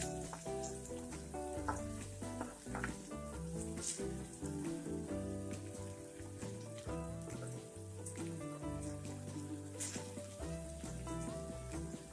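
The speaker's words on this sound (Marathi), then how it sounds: "यामध्ये 1 मीडियम साईजचा टोमॅटो बारीक चिरून घेतलेला आहे, तोही टाकायचा। तोही थोडासा अगदी परतून घ्यायचा।" Finely chopped medium tomato sizzles steadily as it is sautéed in hot tempering oil, a continuous close crackle with occasional stirring scrapes and no talk.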